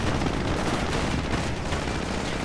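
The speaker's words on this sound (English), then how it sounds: "Blasting away at them with its 20mm cannon." An M8 armored car firing its 20mm cannon at riflemen in a World War II video game, a dense, loud, continuous burst of rapid gunfire and blasts filling the whole stretch.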